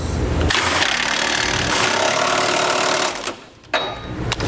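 An 11/16 socket wrench with a swivel adapter tightens the rear bolts of a Curt trailer hitch on a 2015 Subaru Impreza, giving a close, loud, continuous buzzing rattle for about three seconds, then a short pause and a brief final burst.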